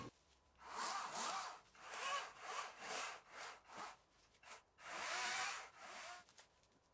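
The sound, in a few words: battery electric saw cutting a balsam fir log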